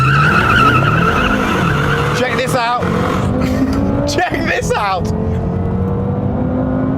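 Mercedes E63 AMG S, BMW M6 Gran Coupe and Jaguar XFR-S launch off the line together, loud engines roaring and rising through gears with brief tyre noise, while someone talks excitedly over them.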